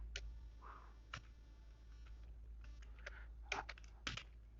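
Someone types HTML code on a computer keyboard in short, irregular bursts of crisp clicks, close and quiet against a low steady hum.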